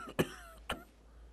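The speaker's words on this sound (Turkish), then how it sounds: "Öksür." A man coughs twice on command during a medical check, two short, sharp, close coughs about half a second apart, with nothing else heard.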